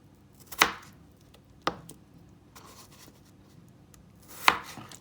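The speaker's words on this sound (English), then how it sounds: "I'm now gonna dice them up into small pieces so they can cook quickly." Knife dicing peeled, washed potatoes into small pieces: three sharp, distinct chops spaced irregularly, close and clear against a quiet kitchen background.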